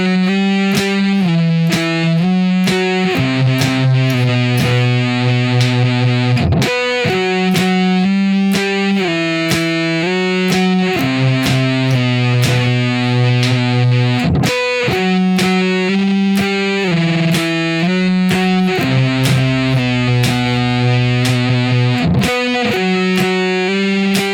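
A distorted electric guitar chugs through a groovy stoner rock riff in octave shapes, shifting across strings with repeated strummed hits and brief slides, loud and sustained with no talking.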